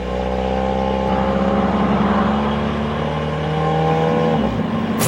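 A car driving along a road, its engine humming steadily and fairly loud throughout, with a sustained whirring drone that rises slightly before trailing off at the end.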